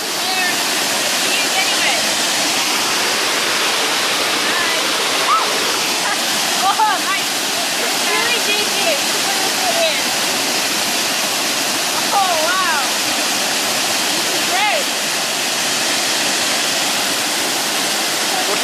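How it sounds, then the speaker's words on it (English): Running water in an outdoor setting during a photo shoot, a loud steady rushing wash that lasts throughout, with faint voices showing through it now and then. "running water. It's clean."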